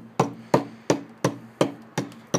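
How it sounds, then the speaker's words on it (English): A hammer strikes a cured concrete canoe hull, reshaping it after the sanding: seven sharp, evenly spaced knocks about a third of a second apart, close and loud, with a steady hum underneath and no voices. "We got tired of sanding, so broke out a hammer."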